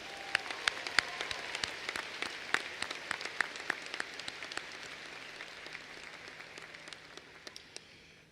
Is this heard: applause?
yes